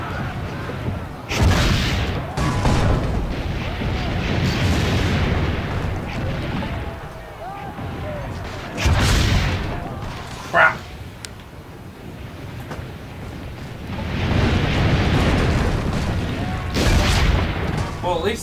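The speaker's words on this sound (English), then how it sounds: "Load the cannon. Aim for the cannon" Deep cannon blasts boom repeatedly in an Assassin's Creed Brotherhood battle, heavy rumbling shots spaced a few seconds apart amid continuous loud chaotic noise.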